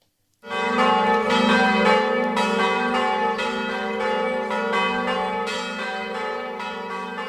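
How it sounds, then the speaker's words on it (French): Church bells of Saint Peter's ring in full peal, a loud, rich clangor of overlapping strokes that starts abruptly and rolls on steadily without any talk. "Elle sonne à toute volée, les cloches de Saint-Pierre."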